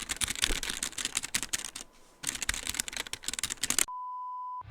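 Rapid clicky keystrokes on a gaming keyboard, loud and close in dense bursts with a brief pause, ending in a steady electronic beep tone.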